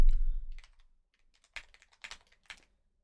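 Computer keyboard typing: a few separate clusters of crisp key clicks after a low thump, sparse and close, with quiet gaps between bursts.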